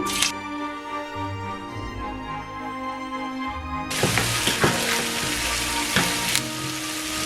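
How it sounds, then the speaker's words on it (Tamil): Thinly sliced onion rings frying in hot oil for Hungarian-style cabbage rolls, a continuous hiss under a sustained musical tone, growing into a louder, denser sizzle with crackling pops partway through. "ஒரு 3 நிமிஷமாக பொரிஞ்சு கொண்டு இருக்குது."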